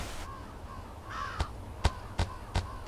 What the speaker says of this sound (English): Crows are gonna get him.